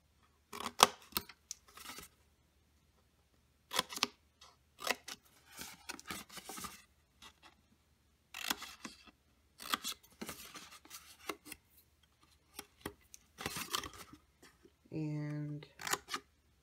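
Scissors snip through festive birthday wrapping paper while it is trimmed and mitered around a box, coming in short rhythmic bursts of cutting between pauses, fairly close and moderately loud.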